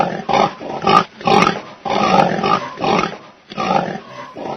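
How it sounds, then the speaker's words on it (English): Pigs grunt and snort in repeated bursts, close and loud, with short pauses between the rough calls. "The pigs grunt all day,"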